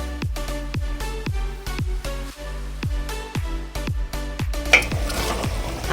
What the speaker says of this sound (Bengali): এইভাবে আমি মাংসটাকে একটু নাড়াচাড়া করে রান্না করে নিয়েছি